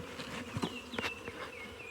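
Honey bees buzz around an opened beehive during a swarm split, a soft steady hum with several individual bees whining past close by in brief rising and falling tones.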